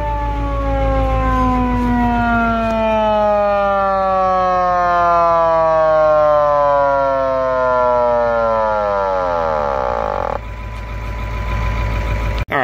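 Mechanical siren on a 1976 Pirsch pumper fire truck, wailing loudly up close and then slowly winding down in pitch as it coasts without a brake, with a low engine rumble beneath.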